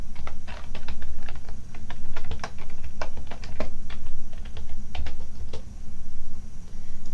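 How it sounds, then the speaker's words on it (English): Typing on a computer keyboard, entering a template name for a Microsoft Access database: a steady run of close, crisp key clicks in irregular bursts over a low constant hum, with no voices. "I'm going to type in the template here"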